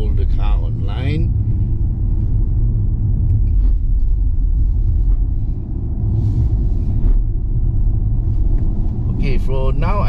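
A BMW i5 eDrive40 electric car climbs the Genting hill road under hard acceleration, with a continuous low road and motor rumble throughout. Someone talks over it in short bursts.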